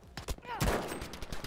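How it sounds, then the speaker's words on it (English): Anti-aircraft guns fire in a Battlefield 5 match on the Narvik map, a quick burst of booming shots with one heavy blast in the middle, heard close and loud over a voice speaking. "Over there! Some AA guns!"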